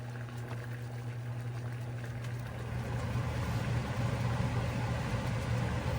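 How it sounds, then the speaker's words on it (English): A fan runs beside an electric stove burner whose temperature sensor has been bypassed, giving a steady, close whooshing hum that grows slightly louder partway through, with no talking. "Turn the fan on here."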